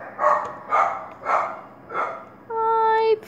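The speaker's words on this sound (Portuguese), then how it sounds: "E as minhas cachorrinhas latindo aí" Small pet dogs in The Sims 3 bark in a quick series of four yips about half a second apart, close and clear, followed by a brief high electronic tone.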